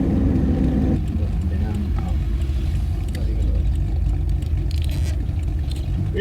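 An HKS-built 2.8L stroker RB26 engine drives a rear-wheel-drive car, giving a deep, steady rumble heard from inside the cabin, with voices talking over it.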